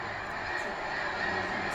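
A huge flock of snow geese at Loess Bluffs National Wildlife Refuge in northwest Missouri sends up a dense, continuous wash of overlapping honks, heard as a steady distant chorus.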